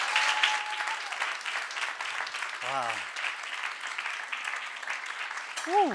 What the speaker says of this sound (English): another round of applause for the magnificent Santaniki